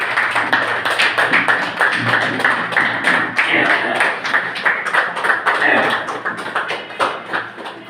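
A seminar audience in Jaipur stands and claps loudly, a dense run of close, sharp handclaps over about eight seconds that thins slightly toward the end, with a voice faintly underneath.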